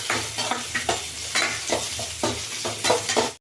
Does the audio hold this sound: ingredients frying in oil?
yes